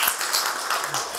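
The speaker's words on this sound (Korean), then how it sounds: "네, 박수." An audience claps briefly, a short burst of dense applause lasting about a second.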